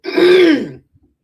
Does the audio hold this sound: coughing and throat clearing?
yes